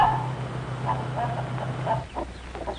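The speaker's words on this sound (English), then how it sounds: "2 months old chickens and almost grown up." Two-month-old, nearly grown chickens on a farm cluck in short, soft bursts close by over a low steady hum, with several scattered calls toward the end.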